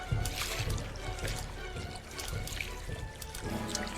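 Water trickles steadily from a tap in the video game Strange Pool, a quiet running stream with faint vocal sounds mixed in over the few seconds.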